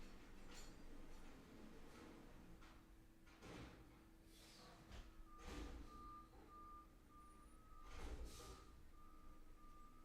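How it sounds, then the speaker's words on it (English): A trash truck backing up outside sends a steady series of reversing beeps, moderately loud at a distance, over a low engine rumble with a few clunks and thuds. "it's the trash truck."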